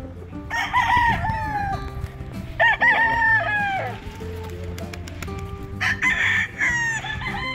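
Gamefowl stags crow again and again, loud and close, their long calls overlapping, with clucking and a voice in between.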